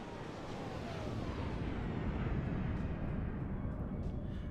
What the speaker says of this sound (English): I just want to try that flyby one more time to see if it's still gonna stutter